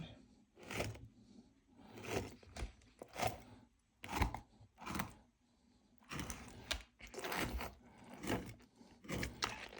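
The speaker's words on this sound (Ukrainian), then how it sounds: "Так нарізаємо всі карасики такими смужечками." A knife cuts repeatedly through crucian carp on a board, slicing it into strips, a series of soft, uneven slicing strokes with short pauses between them, close and quiet.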